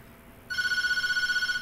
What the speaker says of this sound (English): I don't want to answer the phone.